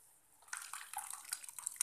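Cooked mashed dal and tomato poured into sambar: a soft, wet splashing pour that starts after a quiet moment and keeps trickling and plopping, faint and close.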